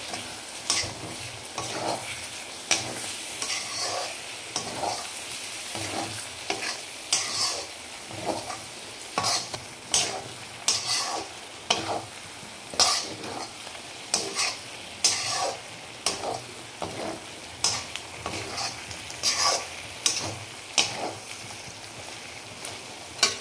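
Chicken fries in a pan with a steady sizzle while a utensil stirs and scrapes it in regular strokes, close up with no talking.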